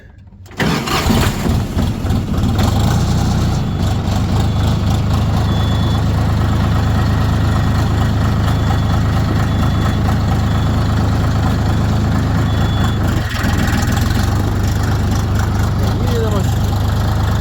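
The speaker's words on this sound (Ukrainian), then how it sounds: "Давайте заведемось." A DTZ tractor's diesel engine cranks and catches, then settles into a loud, steady idle rumble that runs unbroken for the rest of the clip.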